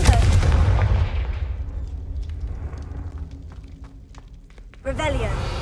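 A Confringo fire spell in the video game Hogwarts Legacy bursts with a loud, deep blast that decays into a crackling rumble, and a voice speaks over the tail end.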